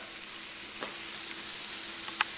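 Ham and spinach grilled cheese sandwich with cream cheese sizzling in a pan just after being flipped: a steady soft frying hiss throughout, with a couple of brief brighter crackles near the end, no talking.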